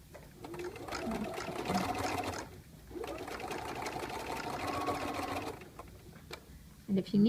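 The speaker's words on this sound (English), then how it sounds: "I'm going to sew close to that folded edge" A sewing machine stitches close to a folded edge on a fly-front zipper, running in two steady bursts of rapid whirring separated by a brief pause, with light handling noises at the end.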